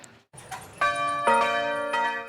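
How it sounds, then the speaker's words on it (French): Church bells ring out in a few bright, resonant strikes, their tones overlapping and lingering, fairly close and clear with no talking. "Les cloches de Thésée marquent l'appel aux 3 prières quotidiennes."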